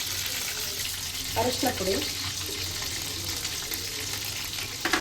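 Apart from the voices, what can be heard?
mustard seeds and cumin sizzling in melted butter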